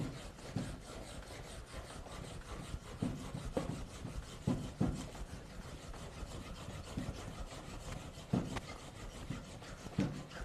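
A wooden peg spun by a bow drill rubs against wood in rhythmic back-and-forth strokes, a steady close grinding friction with periodic accents and no speech.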